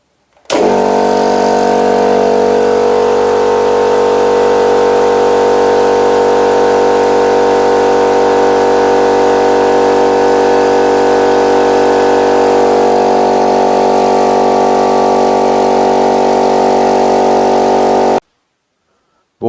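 A Scheppach 100-litre air compressor runs close and loud as a steady droning motor hum with a slight tonal shift partway through. It continues for about eighteen seconds, then cuts off abruptly, with no speech.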